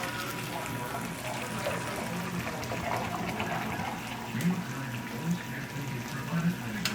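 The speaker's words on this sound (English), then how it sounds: "4 cups boiling water. And it's just about boiling, so we can pour it in here." Nearly boiling water pours into a pan of rice for paella, a steady gushing splash that holds for several seconds at close range, with a few clinks and some chatter in the room.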